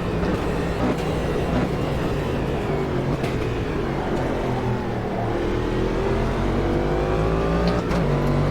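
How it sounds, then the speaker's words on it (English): A Cadillac DPi prototype race car in the Automobilista 2 racing game, its engine droning loud and steady at high revs and stuttering off the rev limiter, with no talk over it. "Seems like right at the peak RPMs it starts banging off the limiter"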